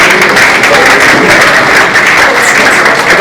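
Sustained audience clapping at a senator's media consultation and interaction event, dense and steady throughout, fairly loud with a faint murmur of voices mixed in.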